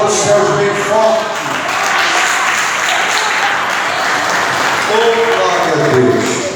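Loud applause from a church congregation fills the space continuously, dense and steady, with a preacher's voice speaking over it near the start and again toward the end.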